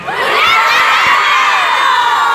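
A large live audience at a 2017 Buenos Aires entertainment event shouts, whoops and cheers loudly, a dense sustained roar of many voices including children, close and overwhelming throughout.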